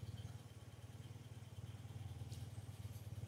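A BMW Airhead motorcycle engine idling at low rpm, a steady, even low throb with a quick regular pulse, heard close and fairly quiet with no talking.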